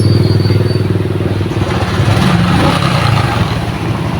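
A Honda XRM motorcycle with a weak battery cranks and then catches into a loud, close, steady idle that throbs evenly throughout, with no talking.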